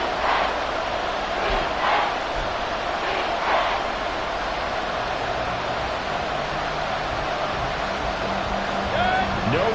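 Stadium crowd roar from an American football video game, Buccaneers matchup, a steady loud wash of cheering that runs the whole stretch with commentary over it.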